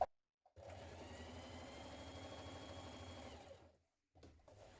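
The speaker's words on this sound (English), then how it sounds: "Now sew the darts in your lining pieces." A sewing machine stitches darts in a waistcoat lining, running steadily for about three seconds, stopping, then starting again briefly, with a close mechanical whir and no voices.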